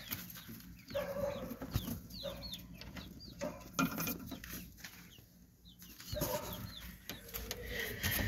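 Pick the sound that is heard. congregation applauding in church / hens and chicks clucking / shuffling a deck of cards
hens and chicks clucking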